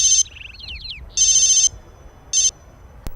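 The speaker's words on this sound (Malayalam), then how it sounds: "ആ ഫോൺ എടുക്ക്." A telephone rings in short electronic bursts, three loud rings spaced apart with a brief chirping tone between the first two, followed by a single sharp click.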